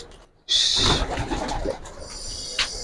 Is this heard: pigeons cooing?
yes